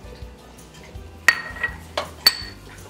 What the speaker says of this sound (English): And what I'm trying to do here is keep mixing it.